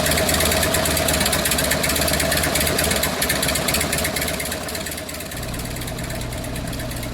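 Harley Sportster 1200 idling on straight-pipe headers with no mufflers, a loud, steady, rumbling idle that holds throughout with a slight drop partway.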